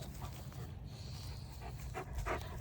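A Newfoundland dog pants steadily and fairly faintly at close range, a soft rhythmic breathing over a low background hum, with no one talking.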